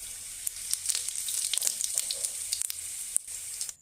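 Whole cumin and green chillies splutter in hot mustard oil with quick, sharp crackles and pops over a constant thin sizzle, close and fairly faint.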